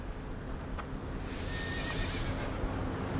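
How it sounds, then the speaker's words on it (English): A horse whinnies loudly and close by, one drawn-out neigh over a dense, rumbling background with some hoof clatter. "Is that a horse?"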